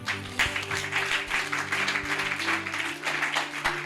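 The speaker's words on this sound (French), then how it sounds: "Que quelqu'un acclame le Seigneur." A church congregation claps and cheers for the Lord in steady, sustained applause, with a held musical tone ringing underneath the whole time.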